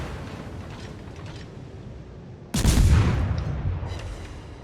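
Naval guns of the ship Z-44 fire in a sea battle video game as a sudden loud broadside boom that breaks in mid-clip over a low steady background rumble, then rolls away slowly.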